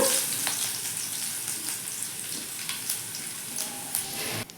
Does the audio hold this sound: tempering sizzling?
yes